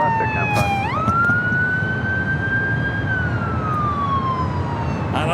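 A wailing emergency vehicle siren near LAX airport in Los Angeles sweeps up, holds its pitch, then slowly falls, loud and nearby over steady traffic rumble.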